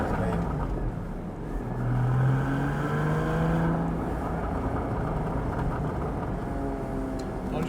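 A 2015 Porsche Cayman 981 GT4 driving, heard from inside as a steady, loud engine drone with rising and falling tones as it pulls, under a voice talking throughout.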